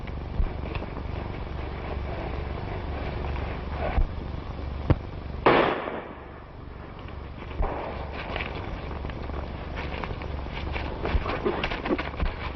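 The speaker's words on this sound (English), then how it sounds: "I tell you, I heard a shot." A single sharp gunshot rings out in a 1936 B western movie, a sudden loud crack at mid-range that rises above a steady film-soundtrack hiss, with a few faint knocks and rustles around it and no one speaking.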